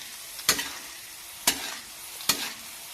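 Fish roe frying in oil in a pan, with three sharp bursts of sizzle and scraping as the roe is stirred, each fading into a quieter crackle, close and with no talk.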